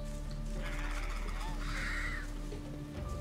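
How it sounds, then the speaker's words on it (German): Crow-like cawing calls from a bird in the fantasy game Risen, repeated a few times over a steady low hum. "Oh, Vögelchen."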